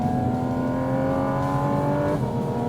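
A 2023 Porsche Cayman GT4 RS engine revs hard and steadily, its close, loud harmonic tone climbing in pitch and then dropping briefly as the driver shifts near the end.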